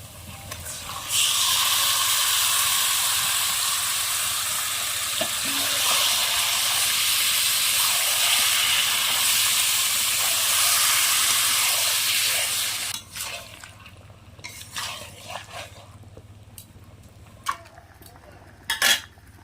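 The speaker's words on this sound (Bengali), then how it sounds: "এবার আমি দিয়ে দেব মশলা মাখানো চিকেন" Spice-marinated chicken drops into a hot pan of fried onion, ginger and garlic, bursting into a loud, steady sizzle for about twelve seconds before it dies back to scattered clinks and scrapes of a utensil.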